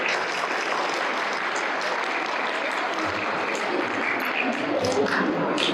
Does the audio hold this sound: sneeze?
no